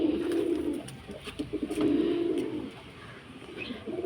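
Pigeons in a loft coo in repeated low, soft rolling calls, several overlapping phrases close by against a quiet background.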